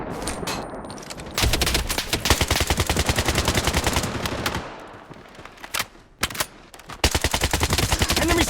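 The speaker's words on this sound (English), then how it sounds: "Taking fire!" Automatic gunfire rattles through the Blood Strike video game in loud, rapid bursts, with dense sustained volleys broken by brief gaps and sharp single shots.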